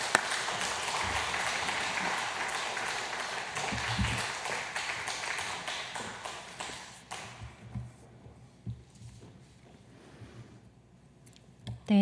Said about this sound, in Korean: 또 목사님 나오실 때 우리 박수로 환영하시면 좋겠습니다.